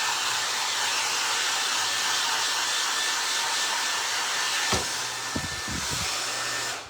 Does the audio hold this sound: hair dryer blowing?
yes